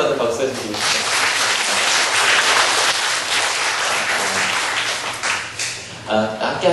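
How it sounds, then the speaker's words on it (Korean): Church congregation applauding together in a sustained burst of clapping that fills most of the moment, then tapers off as a voice starts speaking near the end. "다시 한 번 더 박수 해주시겠어요?"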